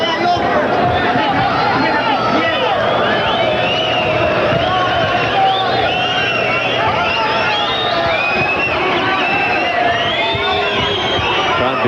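A boxing arena crowd jeers fighter Agapito Sanchez during his bout with Juan Manuel Marquez, a loud, sustained roar of shouting and whistling voices that never lets up, with a commentator talking over it.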